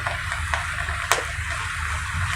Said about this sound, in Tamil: வெங்காயம் ஒரு பாதி அளவு வெந்ததும் நம்ம வச்சிருந்த இஞ்சி பூண்டு விழுதை சேர்த்துக்கலாம்